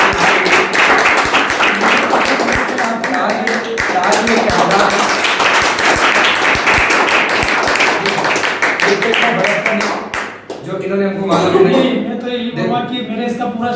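A large crowd of students selected in the SSC-GD written and physical exams claps loudly and steadily for about ten seconds, then the applause fades and people talk over a lingering murmur.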